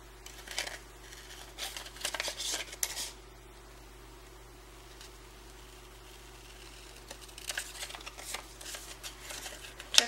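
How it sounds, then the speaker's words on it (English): Scissors cut along the top edge of a stamped paper mug in a card-making kit, heard as close, crisp snips and paper rustles in clusters at the start and end, with a quieter stretch between over a low hum. "Now I'm going to cut out just along the top of this mug."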